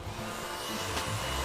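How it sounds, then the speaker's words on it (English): A handheld hair dryer blasts hair dry on hot, high power, giving a steady, close, even whooshing drone with no voices over it. "take your trusty dryer and really blast the hair dry with the dryer"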